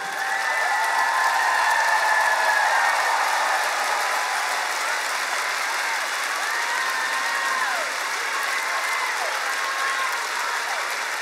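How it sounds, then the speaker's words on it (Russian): A large concert crowd at a show in 2020 gives sustained, even applause, a dense wash of clapping from a big hall that holds steady for over ten seconds with faint crowd murmur beneath. "Такой кайф получать такие аплодисменты."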